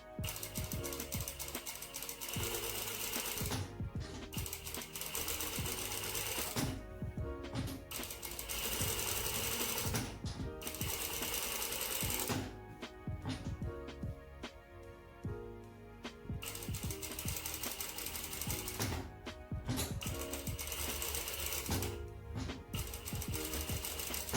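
A sewing machine stitches fabric around the curved edge of an inseam pocket. The loud, rapid mechanical chatter runs in long bursts, stopping briefly several times, with no talking.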